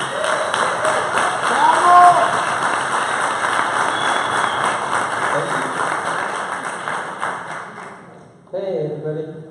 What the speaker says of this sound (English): let's give him a warm applause to welcome him